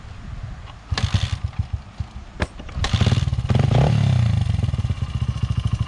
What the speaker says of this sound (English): Alright, I'll just let this run out of gas now.